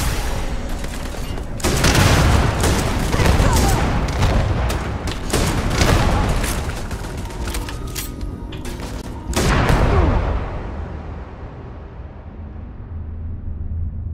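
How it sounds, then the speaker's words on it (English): Gunfire and a grenade explosion in the video game Starfield: dense bursts of shots and booming blasts crowd the first ten seconds, with a final loud boom whose rumble decays into a quieter tail. "Did I just shoot a grenade?"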